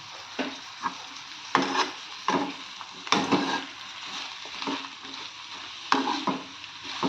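Ridge gourd cooks in a pan over a low gas flame, soft sizzling broken by intermittent stirring scrapes, close and moderately loud, with no voices.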